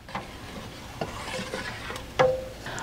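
Soup made creamier with half and half simmers on medium-low heat. A utensil stirs the pot with soft scrapes and occasional taps, over a faint bubbling sizzle, with one sharper clink near the end.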